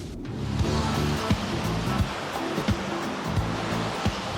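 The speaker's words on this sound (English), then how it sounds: "This is where the river flows into the sea." Waves wash steadily where a river meets the sea, forming a continuous rushing surf with faint periodic knocks and a mechanical undertone, and no voices.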